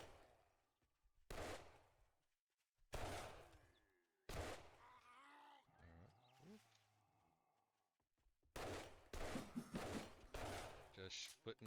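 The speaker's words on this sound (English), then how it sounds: "Just putting lead down range and hoping they hit something." Bursts of gunfire from the zombie survival game 7 Days to Die, loud repeated volleys with quieter gaps and rumbling between them.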